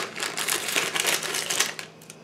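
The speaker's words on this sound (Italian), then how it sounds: "forbici" Scissors snip open a gluten-free marbled cake mix packet in a kitchen, giving close, crisp crinkling and rustling of the packaging for about two seconds.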